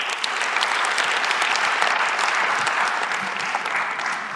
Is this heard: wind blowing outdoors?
no